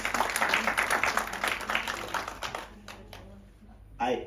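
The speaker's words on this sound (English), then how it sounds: "Another round of applause for Mom Janet." Applause from an audience fades out over a few seconds, followed by a brief voice speaking at the end.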